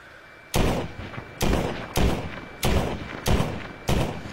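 Six loud revolver shots from a six-shot gun in a VR shooting game, fired in a steady rhythm about half a second to a second apart, each sharp crack followed by a brief decaying tail, with no talking.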